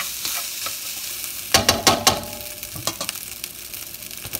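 Garlic fried rice stir-fried over medium-high heat, a steady sizzle broken by a few sharp scraping clatters of the spatula against the pan, close and alone.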